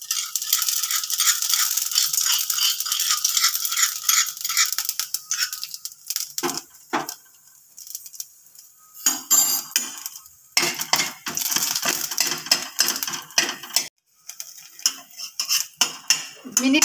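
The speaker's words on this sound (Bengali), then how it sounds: "আর এই থেতো করে রাখা মশলাগুলো আমি এবার দিয়ে দিচ্ছি।" Crushed spices hit a little oil in a pan for chicken stew, with loud metal scraping and clattering of a spoon against the pan in bursts, broken by brief quiet gaps.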